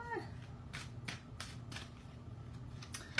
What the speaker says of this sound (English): I'm just going to now shuffle the other decks